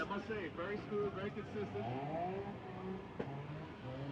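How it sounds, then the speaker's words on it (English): The engine of a 400 wheel horsepower LS1-swapped E36 BMW drift car drones steadily in the background at a drift qualifying event, largely under loud, continuous commentary. "400 wheel horsepower LS1 E36 BMW."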